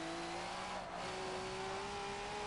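A V8 Supercar engine revs hard in Forza 7 during the final race at Bathurst, a steady loud drone with a brief dip as the car drops to second gear, alone without talk.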